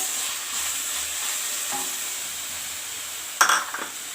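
Mithila-style green pea curry with garam masala, meat masala and coriander powder sizzles steadily in a pan, close and constant, with a brief metallic clank of a utensil near the end and no talking.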